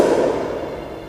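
A single loud, sharp crack like a hand clap sounds close behind the listener, a sudden burst that quickly fades into a short echoing tail, with no voices.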